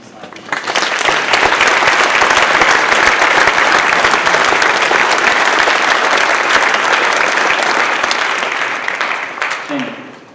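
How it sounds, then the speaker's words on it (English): Audience applause at a high school National Honor Society induction ceremony, a dense, sustained clapping from a large crowd indoors, steady for about nine seconds before tapering off at the end. "please join me once again in applauding our new National Honor Society"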